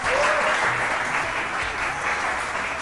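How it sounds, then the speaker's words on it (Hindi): Studio audience on a Hindi television morning show clapping steadily and loudly for the cast throughout, a dense continuous wash of applause that eases slightly toward the end. "ठीक है तालियां बजाएंगे हम इनके लिए।"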